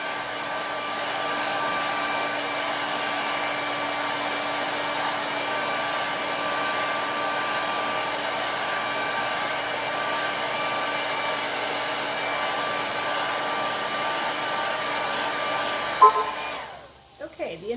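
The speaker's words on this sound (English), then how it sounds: "hair dryer." A hair dryer blows steadily at close range over a candle holder with a constant whirring hum, then cuts off abruptly near the end, leaving brief clatter.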